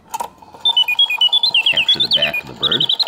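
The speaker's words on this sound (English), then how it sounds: "a vintage 1950s Karl Griesbaum singing bird box that works perfectly" Vintage 1950s Karl Griesbaum singing bird box trills in quick chirping bursts after a brief click, with a voice speaking briefly underneath the mechanical birdsong.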